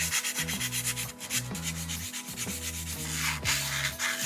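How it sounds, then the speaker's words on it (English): Fine grit sandpaper rubbing over an electric motor shaft and the inside of a coupler during a Netgain Hyper 9 EV motor install, close and steady, with repeated back-and-forth strokes and no talk. "Now I'm just going to be going in with some fine grit sandpaper to make sure everything is nice and silky smooth"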